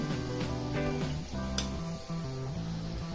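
Gharya dough balls, pumpkin-free sweet fritters, sizzle in hot oil on a high gas flame, a steady close crackle running throughout beneath a background melody.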